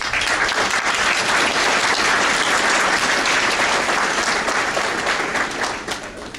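Loud, dense applause from a crowd at a naturalization ceremony in Miami as a country of origin is called, sustained clapping that tapers off at the end.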